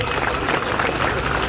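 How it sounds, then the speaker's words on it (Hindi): An audience at a political gathering in India claps together: a brief, dense burst of applause from a crowd, loud and continuous. "तालियां बजाइए।"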